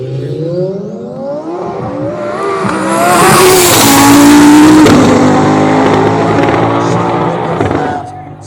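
Corvette C8 with an upgraded turbo kit on a drag strip run at a speed festival, its engine climbing in pitch through hard acceleration and swelling louder at mid-clip before easing away, with crowd and track noise around it.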